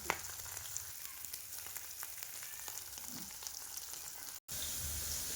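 Manthal (sole) fish fry in a pan with a close, continuous crackling sizzle and small pops, cut by a brief dropout near the end before the sizzle resumes.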